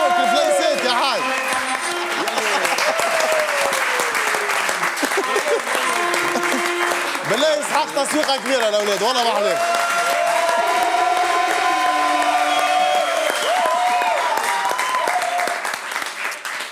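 A studio audience on a TV show claps and cheers loudly for an elderly guest called the Haj, with steady applause running the whole length beneath people talking over it.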